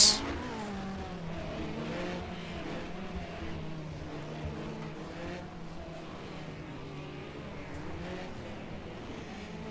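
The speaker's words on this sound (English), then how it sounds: "These are the magnificent classic hot rods" Classic hot rod cars running on an indoor demonstration track at the NEC, engines droning and rising in pitch as they accelerate past, a steady mid-distance roar with a sharp burst at the start.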